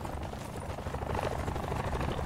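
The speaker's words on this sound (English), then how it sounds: "Let's get helicopter visual real quick." A helicopter flying overhead in the video game Call of Duty: Black Ops 4 Blackout, heard as a continuous dense rotor and engine drone that stays fairly steady, with no speech over it.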